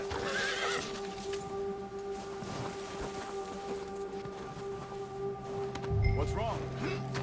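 Horse in Red Dead Redemption 2 whinnying and snorting amid clip-clopping hooves on a cold trail, close and steady, with a low ambient drone and a voice speaking over it.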